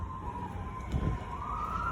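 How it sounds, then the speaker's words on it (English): A police or emergency vehicle siren holds a steady wail in the distance for a moment, with a brief low thump under it. "And the sirens have started up now."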